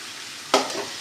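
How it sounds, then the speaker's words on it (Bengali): Vegetable fried rice gets a single quick stir in a hot pan, a brief scraping burst over a steady background sizzle, close and moderately loud. "এবার সব কিছু একসঙ্গে নেড়ে চেড়ে আমি"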